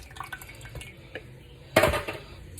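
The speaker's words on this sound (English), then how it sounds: "Pour a little bit more sauce down in there." Sauce is poured into a lasagna pan in a kitchen, with faint drips and small clinks followed by a louder wet splash and pour near the end, close up and with no talking.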